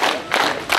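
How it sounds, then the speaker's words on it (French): Brief burst of crowd applause and clapping at a ceremonial flag-raising session, dense and close with no talk over it. "applaudissons"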